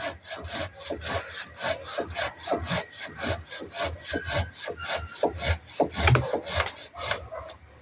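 A handsaw cuts through wood in steady back-and-forth strokes, about two per second. The rasping sounds close and continues without a break, with a sharper scrape near the end.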